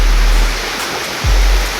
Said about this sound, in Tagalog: Nagsimula na ang bagyo.